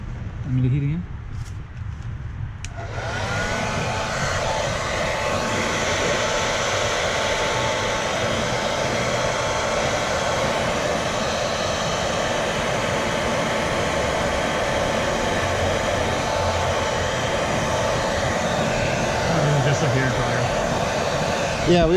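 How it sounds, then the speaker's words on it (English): A hair dryer starts after a few seconds and blows steadily, a loud, constant whooshing hum that runs to the end, with faint voices under it, while film is applied to a BMW F10 535i headlight. "we are using a hair dryer"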